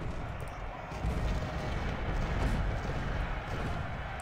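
Civil War battle in the game Ultimate General: Civil War, artillery defending Marye's Heights: a dense, continuous rumble of distant gunfire and cannon booms swelling slightly midway, with no voices.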